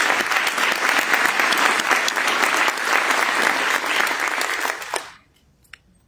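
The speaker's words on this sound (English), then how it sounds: "Y'all, please give them a round of applause." An audience at a neighborhood community event applauds acknowledged community members, a dense, sustained round of clapping that holds steady for about five seconds and then cuts off abruptly into near silence.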